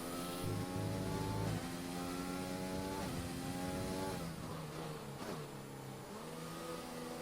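An Aston Martin race car in a racing game on a flying lap, its engine revving high and shifting up through gears in repeated rising sweeps, loud and sustained with brief dips between shifts.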